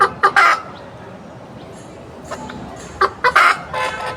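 Black desi country hens clucking in a backyard setup, with a loud burst of clucks at the start, a quieter stretch, then another cluster of sharp clucks near the end, close by with no talking.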